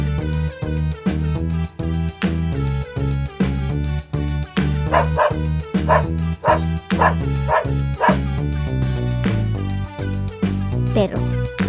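A dog barks repeatedly in quick, rhythmic bursts over continuous upbeat background music, the barks close and prominent throughout.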